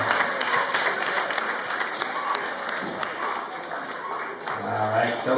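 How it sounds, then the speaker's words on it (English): A wedding crowd applauds the bride in a steady, dense round of clapping that carries on throughout, with voices murmuring underneath. "big round of applause for our bride here this evening"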